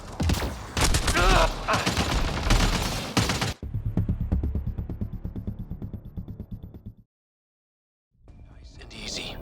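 Rapid gunfire bursts from a firefight in the video game Mass Effect Andromeda, loud and dense at first, then a lighter mechanical rattling of shots that cuts out into silence before sound resumes.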